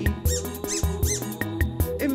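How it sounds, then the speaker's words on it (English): A squeaky dog toy squeaks repeatedly in a quick regular rhythm, sharp high squeals layered over a musical backing beat. "Squeaky deaky, I love that squeaky sound."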